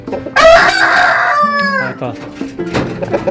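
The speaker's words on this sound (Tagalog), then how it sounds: "ito yung ating rooster na crossbreed sa ating Rhode Island Jersey Giant" A crossbred Rhode Island and Jersey Giant rooster crows loudly and close by, one long drawn-out call with a few clucks and other fowl sounds after it.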